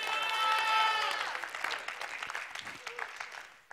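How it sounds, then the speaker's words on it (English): Sermon audience applauding together, a dense wash of clapping that swells early and thins out toward the end, with a voice rising over it. "Come on, somebody clap on that."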